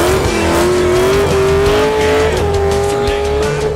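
LS-swapped Porsche 944 revving hard, a loud, steady high-pitched engine wail with rising pitch and tire squeal underneath, close and continuous.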